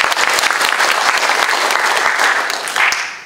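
Applause from the audience at a rural village community policy forum in Gongju, a crowd clapping steadily and loudly for about three seconds before tapering off.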